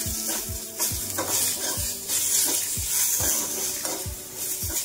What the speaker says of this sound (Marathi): आपल्याला ते सर्व छान परतून घ्यायचंय एकदम लाल रंगावरती।